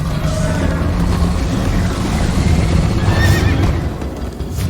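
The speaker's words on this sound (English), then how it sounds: "First time on a horse here" Horse neighing and whinnying in the Minecraft: Story Mode video game, with steady clip-clop hooves running underneath, loud and close over a dense rumbling background throughout.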